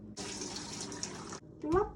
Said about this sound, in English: we are going to dump the water out and shape the butter into a ball